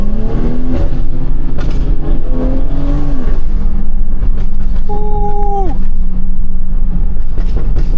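A Stage 2 BMW 340i accelerates hard at night, its engine note climbing through gears in loud rising sweeps with a shift pause, close to the microphone, while a voice briefly exclaims.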